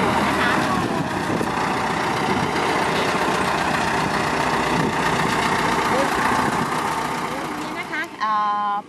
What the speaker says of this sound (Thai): ตอนนี้รถไถกำลังทำงานในเรื่องของการ ใส่ปุ๋ยบำรุงอ้อยตอนะคะ